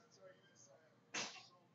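One short, sharp sneeze bursts out near the end of a quiet moment, a brief explosive puff standing alone over faint room noise.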